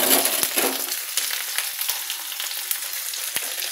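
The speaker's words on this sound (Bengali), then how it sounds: "আরেকটু নাড়বো চাড়বো আমি, তেলে মিশবে বেগুনগুলো" Eggplant pieces fry in oil with cumin, dried chili and garlic while being stirred, a loud crackling sizzle at first that settles into a quieter hiss, punctuated by a few utensil scrapes and knocks.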